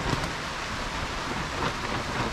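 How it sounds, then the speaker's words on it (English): Steady rain patters on a plastic cover overhead, a dense, continuous hiss and drumming heard from underneath, loud and even throughout with no talking. "It's a steady rain. It's a nice rain."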